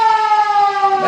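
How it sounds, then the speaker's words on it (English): A football ground siren sounds at three-quarter time in a Great Southern Football League match between Denmark-Walpole and Mount Barker, giving one loud, steady, unbroken tone, alone and close. "Oh, there's a siren."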